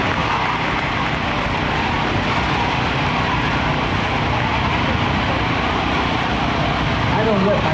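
C-17 Globemaster III military transport aircraft backing up on the ground at a joint services open house, a loud, steady jet engine roar filling the whole clip with no pause.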